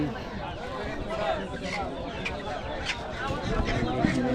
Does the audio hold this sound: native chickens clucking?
yes